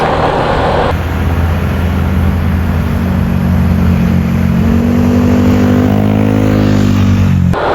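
Loud, steady engine drone and road roar as a vehicle moves close by on a Bicol road, the tone rising in pitch midway as it accelerates, with no talking.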